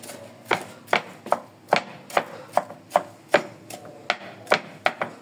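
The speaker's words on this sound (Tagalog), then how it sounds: "Malambot lang naman ang atay, kaya madali siyang pinuhin." Steady knife chops through chicken liver on a cutting board, about a dozen sharp, evenly spaced strikes close up, with no talking.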